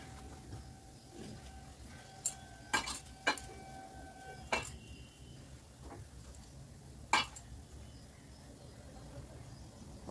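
Flour dough mixed with salt and white oil in a bowl, quiet soft rubbing with several sharp clinks and taps of utensil on vessel spaced irregularly, close and without speech.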